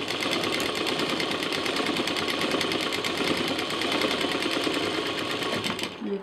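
A sewing machine stitches the side piece of a sling bag in one continuous fast run with an even mechanical hum and rapid needle ticking, stopping just before the end.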